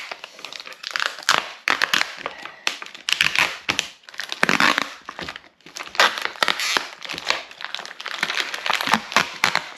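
Vacuum pack of lamb leg steaks being pulled and torn open in a kitchen, with loud, close plastic crinkling, crackling and ripping in irregular bursts throughout and no talking.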